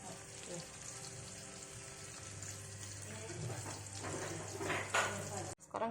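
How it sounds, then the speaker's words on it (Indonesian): Tofu frying in a pan while cooking nasi liwet gives a steady, fairly loud sizzle throughout, with a low hum beneath and a sharp clatter near the end. "kita goreng tahu ya."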